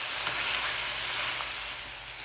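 Boneless chicken pieces fry with garlic and ginger in a pan for hot and sour soup, giving a steady, loud broadband sizzle and hiss that eases slightly toward the end, with no talking.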